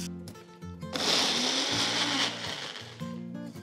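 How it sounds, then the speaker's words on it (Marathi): A mixer grinder whirs loudly for about two seconds as it blends a peanut and yogurt chutney, starting abruptly and then winding down, with quieter kitchen background before and after. "आणि हे एकत्र मिक्सरमध्ये फिरवून याची छान चटणी तयार करून घ्यायची"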